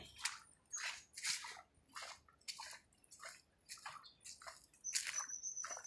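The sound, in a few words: flood water sloshing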